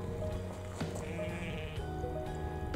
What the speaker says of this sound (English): They made enough noise about it.